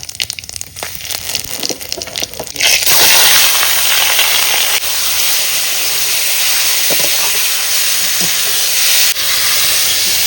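Cumin and bay leaves dropped into hot oil in a wok, starting with light crackles and then a loud, sustained hissing sizzle that continues steadily and close up.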